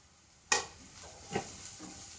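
Turmeric powder and crushed chili stirred into a hot pan for masala puttu: a sharp clatter as the spice goes in, then a soft sizzle with two faint scrapes of stirring.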